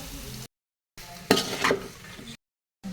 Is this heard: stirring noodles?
yes